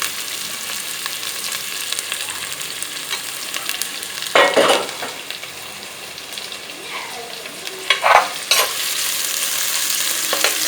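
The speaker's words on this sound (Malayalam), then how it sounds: "നല്ലതായിട്ട് വഴറ്റി വഴറ്റിയെടുക്കണം" Chopped shallots sautéing in a pan for a quick idiyirachi (shredded dried meat) dish, a steady soft sizzle with a few louder bursts of stirring and scraping around the middle and near the end.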